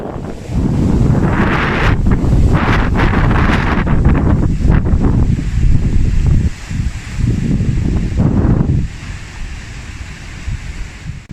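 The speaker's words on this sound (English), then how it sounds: "if you can hear the wind in the next little clip" Strong gusting wind from Storm Eden roars across the microphone near the shore, a loud broadband buffeting that holds for most of the stretch, eases briefly, then drops away near the end with no voices.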